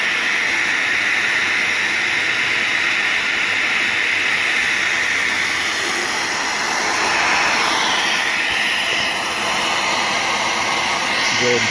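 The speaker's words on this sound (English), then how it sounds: "Go ahead and turn off the vacuum using a Model F Electrolux." An Electrolux Model F vacuum cleaner runs steadily and loudly while figure skate blades are sharpened, a constant close whooshing roar with slight shifts in pitch and no pauses.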